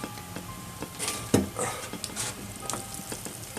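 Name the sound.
pot of meat boiling and bubbling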